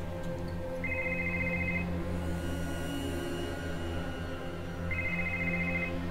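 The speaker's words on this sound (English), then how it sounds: "Oh, this phone is ringing." A phone rings in the Mystery Trackers hidden-object game: two short electronic trilling bursts several seconds apart over a steady background music drone.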